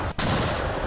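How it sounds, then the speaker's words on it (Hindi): A single loud, sharp blast rings out as a Ukrainian army artillery launcher fires a shell, with a brief hush just before the booming report. "दूसरे ने उसमें बंधी रस्सी को खींचा, जिसके बाद वहां जोरदार धमाका हुआ"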